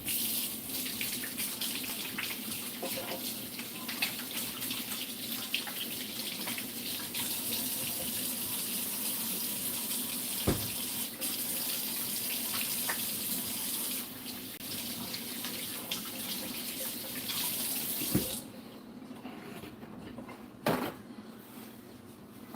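Kitchen tap running into a sink while hands are washed, a soft steady hiss of water that stops near the end, followed by a couple of faint clicks.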